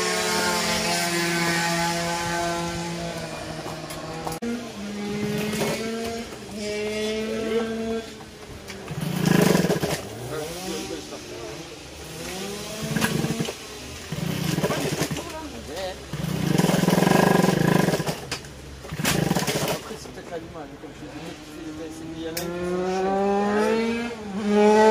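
A moped engine is test-run for an endurance race, revving and droning through wavering rises and falls in pitch, loud and close, with people talking over it.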